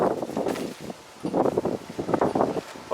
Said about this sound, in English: Right now it's quite windy here, no wind muff on the camera.